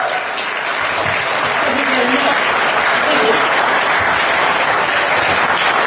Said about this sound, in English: Let's give this man a huge round of applause